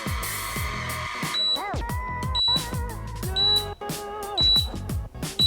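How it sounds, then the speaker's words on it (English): High-pitched electronic beeps from a Conair Unbound cordless auto-curler repeat at intervals over a busy background of music-like tones and clatter. "Y'all hear the beeping?"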